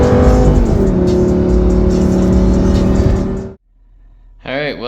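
A Lamborghini drives with a steady, loud engine roar and road noise for several seconds. The roar then cuts off sharply and is followed by a short pause before a brief rising rev.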